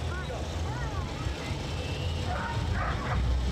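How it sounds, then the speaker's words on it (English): A police dog barks repeatedly while holding a hidden suspect in place during an Iron Dog competition, the sharp barks mixed with yips over steady background noise. "the dog has to find the suspect and detain them there while barking"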